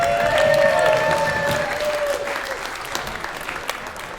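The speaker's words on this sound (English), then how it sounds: "Let's give a big round of applause for all of our comics tonight." Audience at a comedy festival in Yakima, Washington applauds the comics, a loud burst of clapping that slowly thins and fades over several seconds, with a few whoops near the start.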